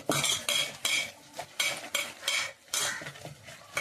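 A spoon stirs and scrapes a spiced filling with salt in a metal pot, giving repeated rhythmic clinks and scraping strokes at close range, without any talking.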